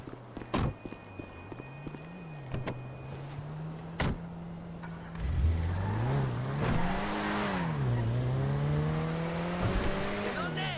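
A car driving in the video game GTA V, its engine steady and low at first under scattered thumps and clicks, then revving up and swelling louder with rising and falling pitch sweeps as it accelerates.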